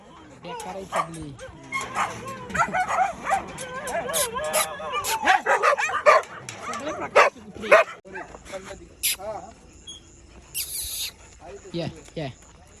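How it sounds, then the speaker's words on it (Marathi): A large group of Doberman dogs at a kennel barking in overlapping bursts, loud yaps and some whimpers nearby, with people talking among the barks. "हे डॉबरमॅन दिसतात सगळे"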